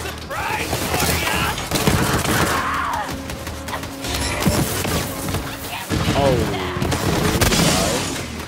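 Turret gunfire rattles in the video game Borderlands 3, dense bursts of shots and thuds mixed with game effects, loud and continuous, while voices talk over it.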